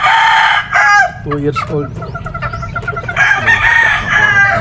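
A two-year-old straight-bred claret broodcock rooster crows loudly and close by at a native game farm, with a clucking bird between the crows and someone talking briefly over it.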